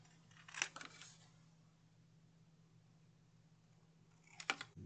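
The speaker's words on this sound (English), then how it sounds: "And I am just going to trim with my scissors." Two short bursts of crisp scissors snipping paper for notecard stationery, one near the start and one near the end, separated by a long quiet stretch with a steady low hum underneath.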